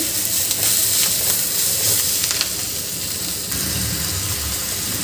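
Giloy (gulvel) leaves are stir-fried as a bhaji in a pan, giving a steady close sizzle broken by a few scraping stirs, with no speech.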